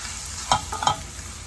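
Onions fry in a pan for dal makhni with a constant close sizzle and two quick spoon stirs scraping through it.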